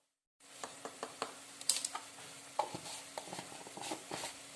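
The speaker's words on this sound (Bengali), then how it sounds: "দিয়ে ভালো করে মশলাটা একটু কষিয়ে নেব" Spice paste with salt and turmeric being sautéed in a pan, a soft sizzle under irregular scraping stir strokes and light taps of the spoon, quiet and close, no voices.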